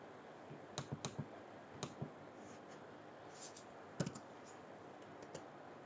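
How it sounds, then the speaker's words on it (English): Keys click on a computer keyboard while someone types a name into a database table. The taps are soft and scattered, coming in short clusters with pauses between them against a quiet background. "So here I have to type the name Swati."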